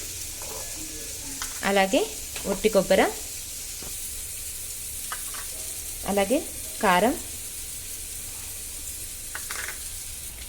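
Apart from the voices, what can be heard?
onions frying in hot oil in a kadai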